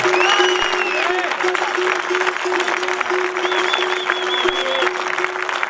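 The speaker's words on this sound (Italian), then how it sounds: "Un grande applauso per Filippo e Cecilia" Applause for the overall leaders of the National Series Italy at the Villacidro Skyrace 2018 award ceremony, a steady clapping wash with whistles and raised voices running throughout, fairly loud and continuous.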